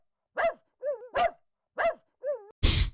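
A dog in a Roblox game barks in a repeated pattern of sharp barks and whiny yelps, close and clear, ending in a burst of harsh noise.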